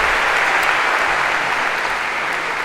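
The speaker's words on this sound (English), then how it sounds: "Perhaps a round of applause" An audience in a university lecture hall for a computer science class claps loudly and steadily for a few seconds, with no voices over it.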